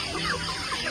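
A Plymouth Barred Rock chicken at a free-range farm clucks in a short burst, close and fairly loud, with a restless run of calls.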